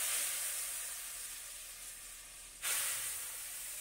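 Water splashes into a hot pan of fried dried meat for a traditional qervish, giving a steady, loud steamy sizzle that surges sharply partway through and then hisses on evenly.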